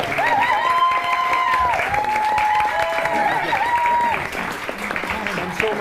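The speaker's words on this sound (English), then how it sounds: "let us applaud our dear Galador" A group applauds Galador at the close of a tabletop fantasy game episode. Clapping and light cheering run throughout under a musical tone, with voices mixed in, fading slightly near the end.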